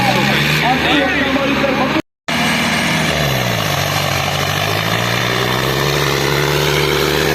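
A tractor engine drones and revs nearby while pulling a trolley in a trolley-pulling contest, people talking over it; the sound drops out for a split second partway through.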